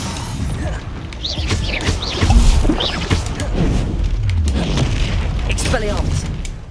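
Spell-casting impacts in Hogwarts Legacy: several booming, crashing hits and mechanical clanks in quick succession, with a voice talking loudly over the effects.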